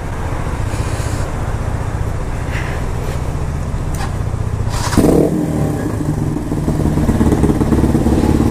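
A 2017 KTM Duke 125 motorcycle being ridden, its engine droning loud and close with a rev rising near the midpoint, then carrying on under wind and road noise.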